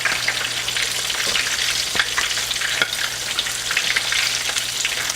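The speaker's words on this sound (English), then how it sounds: "remove my shrimp from the oil" Panko-breaded shrimp frying in hot oil, giving a steady, close, dense sizzle with crackling pops throughout and a low hum underneath, no voices.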